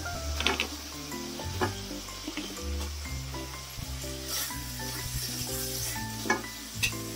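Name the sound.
potatoes added to frying spice paste, sizzling in pan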